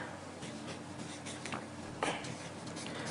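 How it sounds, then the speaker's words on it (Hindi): A pen writing a name on paper, close scratchy strokes in short irregular bursts with a slightly louder scrape near the middle, against faint background hiss. "जिसे भी आपको अपने वश में करना है उसका नाम आपको इस कागज पर लिखना है।"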